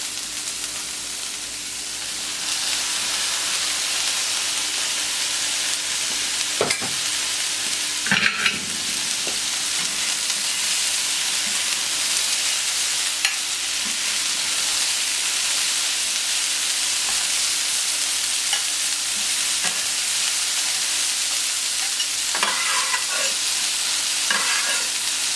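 Vegetables and red beans sizzle steadily on a hot plancha, a constant frying hiss close up, broken by occasional scraping clicks of a utensil stirring and pushing the food.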